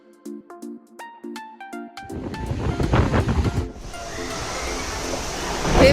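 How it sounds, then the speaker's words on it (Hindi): Heavy rain pours down as a loud, dense rushing roar that swells in after a short melodic tune at the start and stays strong to the end. "और बहुत तेज बारिश हो रही है।"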